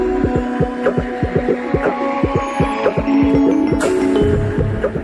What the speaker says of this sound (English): As the machine's roller runs over the model, it guides a shaper to carve the wood exactly like the model.